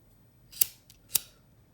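Two crisp snips of scissors cutting wire or beading material while making pink heart and copper flower earrings, evenly spaced about half a second apart in a quiet room.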